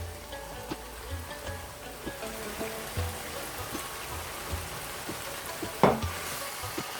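Spices frying in hot oil for a mutton karahi, stirred with a spoon that clinks the pan at a steady pulse under a low, continuous sizzle, plus one sharper scrape near the end.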